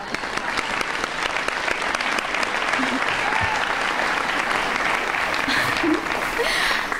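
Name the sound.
audience applause for parents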